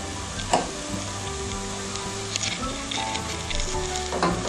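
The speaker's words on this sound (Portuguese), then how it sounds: "Deixa eu dar uma refogada agora nessa cebola, para ela ficar transparente." Onion sautéing in a pan for a crab casquinha dish, a bright close sizzle with intermittent scraping and clinks as it is stirred, steady and moderately loud, nobody talking.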